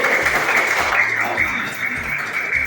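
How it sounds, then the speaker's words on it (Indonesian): Applause from a group in a primary school classroom session, loud, steady clapping that sounds somewhat hollow and compressed, with low voices murmuring underneath. "Betul sekali, tepuk tangan dulu."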